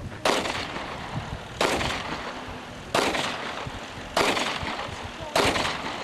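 Five loud pistol gunshots ring out outdoors at a 2009 highland festival at Harmancuk Yaylası, evenly spaced about a second apart. Each sharp crack is followed by a decaying echo, with faint crowd background between the shots.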